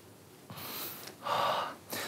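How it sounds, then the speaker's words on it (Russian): A deep breath drawn into the belly during a breathing exercise, heard as a couple of breathy inhalations with a stronger, louder intake in the middle, close and with no talking. "Попробуй набрать воздух сейчас к себе в живот."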